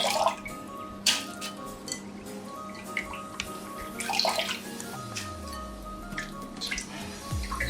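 Seeds being rinsed in a bowl of water while cooking Ghanaian cocoyam leaf stew, with irregular splashes, drips and sloshing, close and moderately loud, without any talking.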